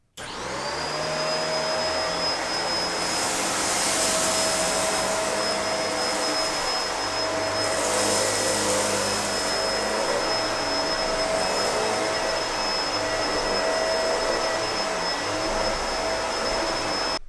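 Bissell MultiClean Allergen Lift-Off vacuum cleaner running steadily on low carpet mode, sucking up oatmeal, with a loud continuous motor roar and a high whine held throughout, surging slightly as it passes over the spill.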